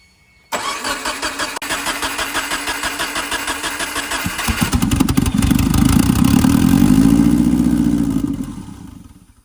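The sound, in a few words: Subaru WRX engine starting and idling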